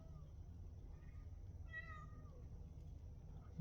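A single drawn-out meow from a stressed, agitated cat with a puffed-up tail, fairly faint over a low steady hum, with no talking.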